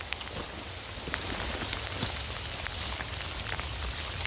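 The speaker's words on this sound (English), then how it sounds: "It is hailing to bejesus." Hail falls during a long hike through wet forest, a dense, steady patter of countless small impacts with scattered sharper ticks, continuous and fairly even throughout, with no voices.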